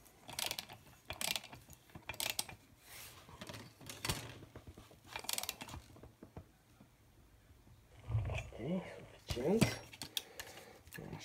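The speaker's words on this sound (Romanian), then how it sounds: "Hai să strângem volanta." A Husqvarna 51/55 chainsaw flywheel is tightened by hand during a clutch repair, giving bursts of ratcheting clicks in several separate runs, close by, followed by metallic handling noises near the end.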